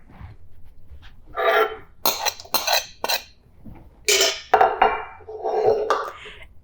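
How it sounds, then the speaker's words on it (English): A spoon knocking and scraping inside a bowl while stirring a white wine vinegar, garlic and black pepper marinade for Filipino chicken, a handful of sharp clinks and scrapes in bursts at close range. "So you just want to mix it with a spoon just so the black pepper gets around."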